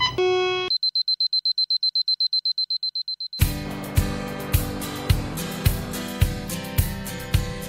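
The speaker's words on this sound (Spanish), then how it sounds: "tenemos alarmas cada 4 o 5 segundos" An alarm in the Jack Daniel's distillery control room gives a brief steady tone, then a fast run of about fifteen sharp, even beeps, loud and close, before a rhythmic series of heavy thuds and clatter takes over.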